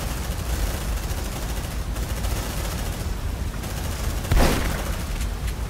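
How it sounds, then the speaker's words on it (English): Shotgun firing in the Aliens: Dark Descent video game: dense, continuous battle noise with a rattle of gunfire throughout and one sharper, louder blast near the end. No one talks. "I love that shotgun."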